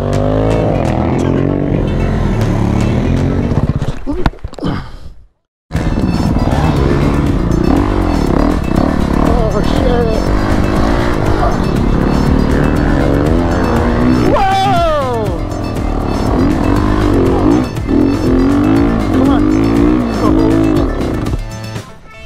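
A motorcycle engine roars and revs continuously in sand dunes, rising and falling in pitch, with a brief cutout and voices faintly mixed in.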